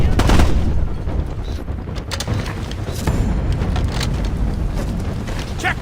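Gunfire rattles through a firefight in Ghost Recon Advanced Warfighter, dense, loud and continuous, with heavy low booms and sharp cracking shots layered throughout, and faint voices buried in the mix.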